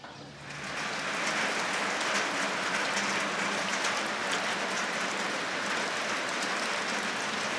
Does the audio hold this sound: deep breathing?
no